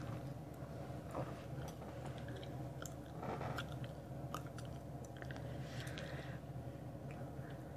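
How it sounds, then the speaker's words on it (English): Gum chewed right against the microphone: soft, wet, sticky clicks and squelches repeating in an irregular rhythm over a low steady background hum, with no talking. "I enjoy chewing gum."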